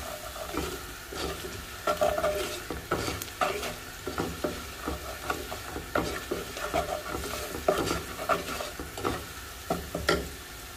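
Onions softened in a pan with turmeric and salt, stirred steadily, give a continuous close sizzle and frying hiss broken by repeated scraping strokes of the spoon against the pan.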